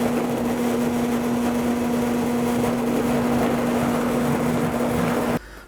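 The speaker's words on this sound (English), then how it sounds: "I'm going to blend this" A Vitamix blender on high blending tomato basil soup, a steady loud motor whir with a constant hum, running evenly for several seconds before cutting off abruptly near the end.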